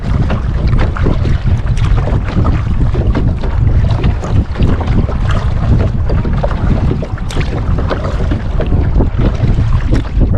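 Paddling a Crescent kayak on open sea off Tybee Island, Georgia, with steady loud wind buffeting the microphone and continuous water sloshing against the hull throughout, no voices.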